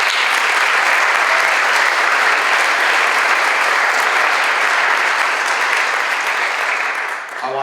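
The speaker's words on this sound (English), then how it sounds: "Let's give them a round of applause" A large audience at a high school National Honor Society induction ceremony gives loud, sustained applause, a thick, even roar of clapping that tapers off briefly at the end.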